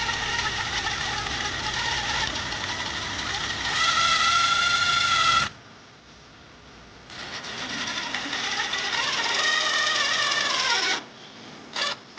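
Screws driven into Hardie fibre-cement ceiling panels on a rear porch by the pool, a loud whirring power driver in two long bursts separated by a short pause, then a brief blip.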